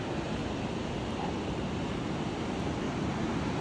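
Ocean surf at Kalaloch beach near Forks, Washington: a steady, broad roar of waves with wind noise on the microphone, constant and moderately loud, no voices.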